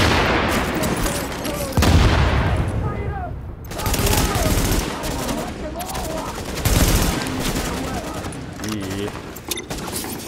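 Bursts of automatic gunfire and single shots from The Division, set in a subway morgue, crackling loud and dense across the whole stretch, with game voices talking in the background.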